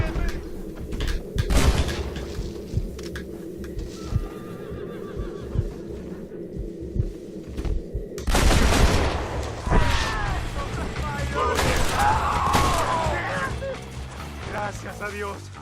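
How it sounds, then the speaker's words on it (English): Gunfire in the Western video game Red Dead Redemption comes as sharp, repeated cracks and booms mixed with mechanical clatter and crashes. A game soundtrack and effects run throughout, and the bursts grow denser and louder in the second half. "Stop shooting at me!"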